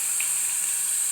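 Onions, garlic and vegetables hitting hot oil in a pan for a tilapia brown stew: a loud, steady, bright sizzle filling the short moment.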